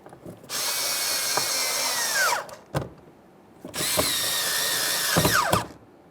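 A power tool snugs up two 7mm mounting bolts on the door of a 2015-2020 Ford F-150 during a door check replacement: two long, loud, close whirring bursts with a brief click between them.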